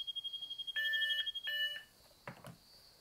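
An analog variometer emits two separate high electronic beep tones in quick succession, each lasting under half a second, followed by a couple of soft handling clicks.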